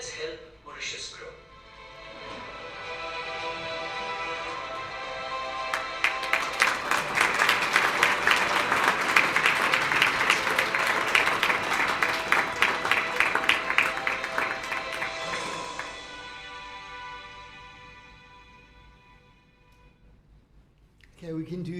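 Audience applause at the launch of a business index book in Mauritius, swelling from scattered clapping into a full, dense round of many hands that peaks and then gradually fades, with speech around the edges.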